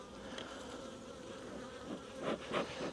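Honey bees buzzing steadily at an apiary hive, a dense continuous hum with a few louder swells as bees pass close by, no talking.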